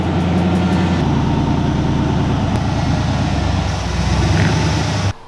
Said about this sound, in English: This thing really needs an exhaust, and a quiet one at that. It sounds like a freaking tractor.